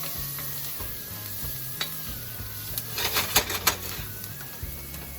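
Shallots sautéing in a pot for meatloaf, a continuous close sizzle with a cluster of rapid scraping stir strokes in the middle, no voices.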